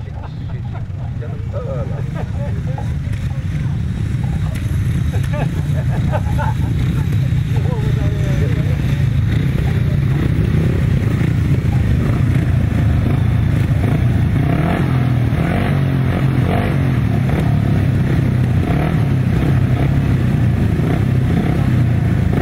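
Several 500cc solo speedway-style motorcycles racing at a grasstrack championship, engines roaring loud and continuous with rising and falling revs as the pack circles the track.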